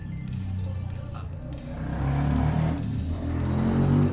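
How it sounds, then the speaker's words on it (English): Motorcycles on a street just outside a room pass by with rising engine drone and revving, growing louder toward the end, heard through the window as a continuous buzz. "sorry for those motorcycle noises."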